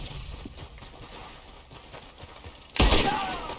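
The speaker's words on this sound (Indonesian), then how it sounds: "Wah, sekali 3 kali menembak." A single loud, close gunshot bursts out near the end of a stretch of quiet ambience during a train robbery in the Western video game Red Dead Redemption 2.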